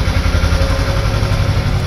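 A tractor engine in a Spider-Man video game runs loud and close, a steady low rumbling idle with a throbbing pulse for a couple of seconds and no voices.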